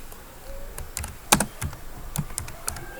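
Fingers type text on a computer keyboard, an irregular run of crisp key clicks with one louder clack, heard up close and without talk.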